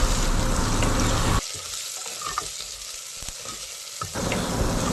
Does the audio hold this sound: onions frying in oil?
yes